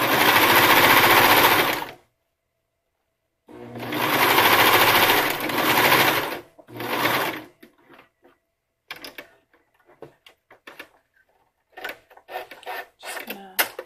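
A sewing machine stitching a bra seam runs in loud bursts, each about two seconds long, with pauses between them. Fabric handling and small clicks follow as the stitch is locked.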